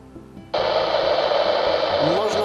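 An Icom IC-M421 marine radio's squelch opens with a sudden burst of loud, steady hiss that continues for about two seconds after a brief quiet start.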